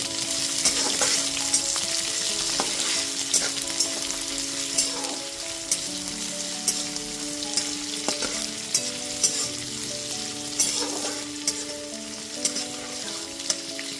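Fried rice ingredients with chopped chilli and a spoonful of sugar are stirred together in a sizzling pan, with a steady fry hiss and repeated spatula scrapes and clinks throughout. No one speaks.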